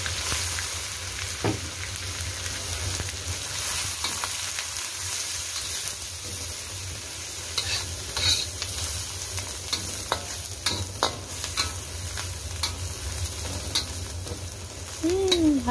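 Dried small shrimp (udang rebon) and shallots sizzle steadily in hot oil as they are stir-fried, with a utensil scraping and clinking against the pan now and then.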